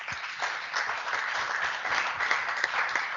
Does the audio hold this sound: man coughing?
no